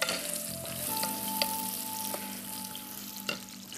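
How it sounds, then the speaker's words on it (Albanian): Peppers sizzle steadily in a frying pan for a bulgur pilaf, a continuous crackling fry with a few sharper pops and a faint steady tone running underneath; no one speaks. "ja të kërim dhe specat, si që shikoni për të skuqur."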